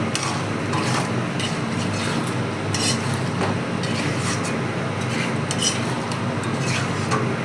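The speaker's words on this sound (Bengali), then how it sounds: "যেহেতু টক দই দেওয়া আছে, ওই জন্য গ্যাসটাকে কমিয়ে মশলাটাকে মিশাতে হবে।" Chicken kosha with cashew-raisin paste and sour yogurt is stirred in a pan over a lowered gas flame. A spoon scrapes steadily and rhythmically through the thick masala under a continuous soft sizzle, close and even throughout.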